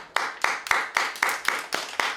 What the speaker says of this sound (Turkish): Şimdi alkış sesini iyi dinleyin çocuklar.